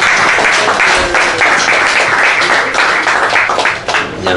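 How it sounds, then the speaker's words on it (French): Loud, sustained clapping from an audience at a French business talk as a speaker is welcomed, dense applause throughout. "Qu'on applaudit au préalable"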